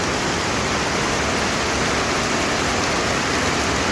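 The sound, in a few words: heavy rain and waterfall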